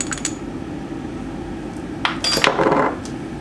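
Ingredients with Mexican spices and cumin being stirred in a cooking pot for a one-pot dish: a steady clatter of a spoon against the pot, building into louder scraping and clinks toward the end, with no talking.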